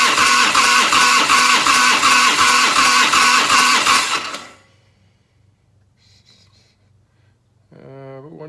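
A 1990 Harley-Davidson FLHTC Evo engine cranking with the throttle held wide open, a loud rhythmic chugging of the starter turning the engine for about four seconds, then stopping, followed by near silence and a brief faint mechanical whir.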